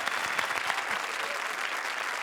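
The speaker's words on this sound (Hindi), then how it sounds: "जोरदार तालियां" An audience at a televised comedy show breaks into loud, sustained applause, dense clapping throughout with no voices above it.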